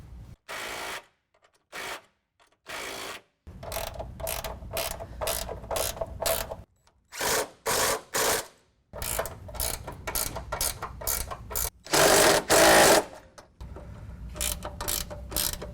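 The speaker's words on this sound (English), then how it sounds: "So now that I've got that where I want it, we're just going to tighten all the hardware up." A ratchet wrench tightens the mounting bolts of Go Rhino RB10 drop step running boards on a Jeep, with bursts of rapid close clicking separated by short silences, some stretches longer and louder than others, and no speech.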